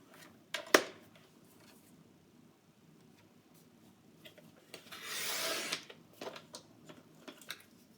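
Paper for a scrapbook page trimmed on a paper trimmer, a sharp tap at the start, then a quiet pause before a soft sliding, rasping cut and a few light knocks as the sheet is handled.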